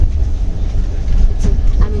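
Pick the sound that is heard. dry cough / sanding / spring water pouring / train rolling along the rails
train rolling along the rails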